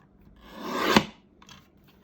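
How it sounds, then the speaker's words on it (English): A Stampin' Up mini paper cutter slices through a sheet of cardstock in one smooth rasping stroke that swells and ends in a sharp snap, followed by a faint scrape close by. "I love the sound of that cutter."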